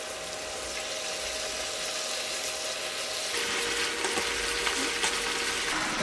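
Chicken breast simmering and reducing in a pan with a soy sauce glaze of light and dark soy, oligosaccharide syrup and plum extract, giving a steady close bubbling sizzle that grows a bit louder partway through, no voices.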